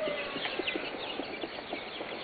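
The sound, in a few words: chickens clucking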